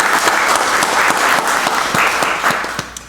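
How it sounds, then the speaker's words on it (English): Steady applause from the audience at a county board of commissioners meeting, sustained dense clapping for about three seconds that eases off at the end. "Let's give our employees a wonderful round of applause."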